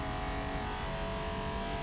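Race car engine from the video game Forza Motorsport, roaring at sustained high revs with a steady, loud, buzzy drone that barely wavers over a short stretch, with no voices.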